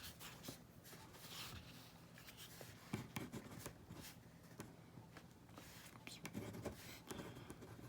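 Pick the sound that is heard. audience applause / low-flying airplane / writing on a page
writing on a page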